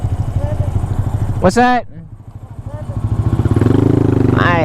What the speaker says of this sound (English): I got a motorcycle I'm gonna attempt to catch up with